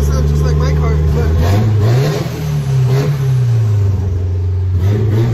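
A car engine revs and drones steadily, its pitch rising and falling with each throttle push, loud and close throughout.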